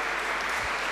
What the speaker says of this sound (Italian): oggi un applauso facciamo a Luigi e Spirziola